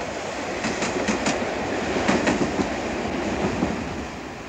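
A train rolls steadily along the rails with a continuous rumbling roar and periodic clickety-clack beats from the wheels passing over joints.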